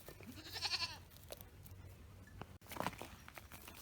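A baby goat on a farm lets out a short, quiet bleat near the start, followed by soft rustling and faint movement sounds in a calm outdoor setting.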